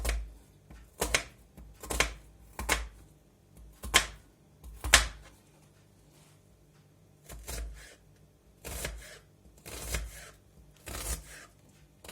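A knife dices an onion into small cubes on a cutting board, with close, crisp chops falling in quick bursts separated by short pauses.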